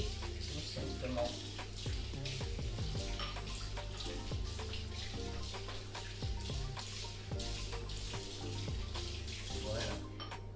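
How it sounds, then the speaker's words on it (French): Water runs steadily from a tap onto skin while a healing fresh tattoo is rinsed, a continuous close splashing with irregular small spatters and a low steady hum underneath. "Et là je viens rincer, tout simplement."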